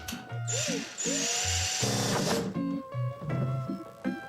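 A power drill runs in repeated short bursts of whirring, with pitch rising and falling between pulses, amid a cluttered renovation scene while building a shower stall; loud and close throughout.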